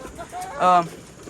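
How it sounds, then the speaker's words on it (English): A farm chicken lets out a single short, loud squawk after being stepped on beside livestock troughs, with someone talking briefly around it. "Oh, I stepped on the chicken."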